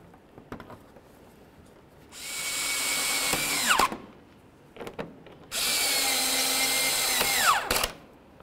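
Power drill driving screws during radiator installation on a 2007-14 Ford Edge, two sustained whirring bursts of about two and three seconds each, winding down at the end, with faint clicks between them and no talk.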